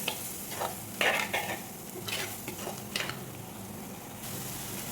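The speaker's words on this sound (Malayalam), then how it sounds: "ഇതിനെ നല്ലതുപോലെ ഒന്ന് മൂപ്പിച്ചെടുക്കാം." A soft, continuous sizzle of thick masala paste for fish curry cooking in a pan, with a few scraping stirs and clinks near the start.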